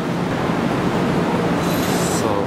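A Nankai 2000 series train running as the Kanata service pulls in, giving a steady, loud broadband rumble of wheels and motors, with a brief hiss toward the end and no voices.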